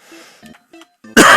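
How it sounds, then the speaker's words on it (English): Someone with a cold clears their throat and coughs in a few short, close bursts, ending in one loud harsh cough, with no talk in between. "so I may be coughing somewhat this stream"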